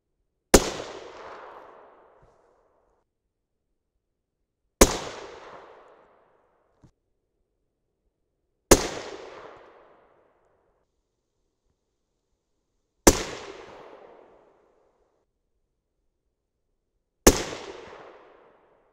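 A 6.5 Creedmoor rifle fires 130gr Sierra GameKing bullets handloaded with Reloader 17: five sharp, loud shots at steady intervals of about four seconds, each decaying into a brief echoing tail, with silence between.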